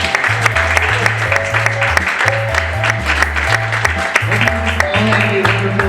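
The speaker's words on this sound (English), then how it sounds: "One more round of applause." A convention audience claps at the close of a publishing Q&A session. The applause is partly masked by loud music with a pulsing bass line playing over it.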